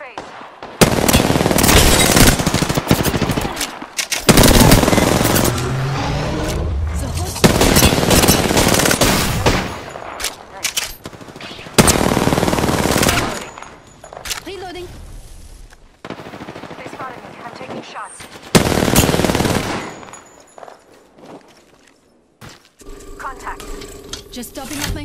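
Bursts of automatic gunfire from the battle royale shooter Apex Legends, several loud rapid volleys separated by short pauses, with mechanical reload clicks and quieter game effects between them.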